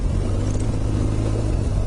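A 2008 BMW R1200 GS Adventure motorcycle rides through ruts with a steady, loud engine drone and road rumble that holds at an even level throughout the short stretch, with no voices.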